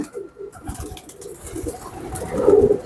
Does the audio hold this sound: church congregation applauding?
no